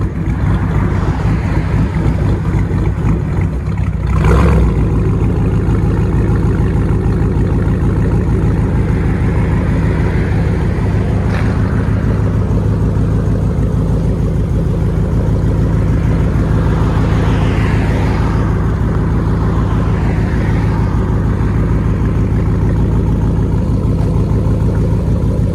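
Dodge Charger V8 with straight-piped exhaust idling, a deep continuous low rumble that stays steady for the whole stretch, with a faint bump of handling noise early on and no speech.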